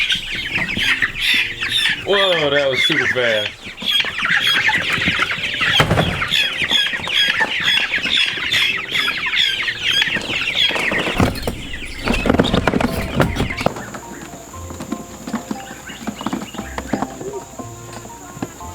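Guinea fowl keets squawking and chirping in a dense, steady chorus as they are let out of a brooder, with a person talking over the calls and rustling, handling noise between them.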